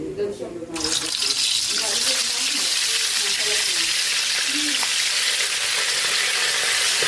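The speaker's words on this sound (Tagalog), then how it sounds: "prito na natin yung ating lechong kawali" Filipino lechon kawali, pork belly deep frying in hot oil, sizzles with a loud, dense, continuous crackle that starts suddenly after a brief moment of quieter kitchen sound and holds steady to the end.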